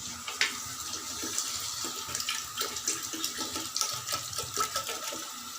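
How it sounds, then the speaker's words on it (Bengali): Water is poured into a pot of frying khichuri, giving a steady splashing, gurgling flow that runs continuously and fairly close throughout. "এখন পানি দিয়ে দেবো।"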